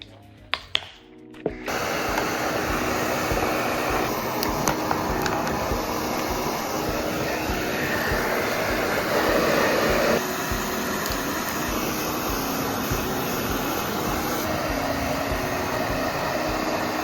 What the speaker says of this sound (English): doing it the proper way with a hairdryer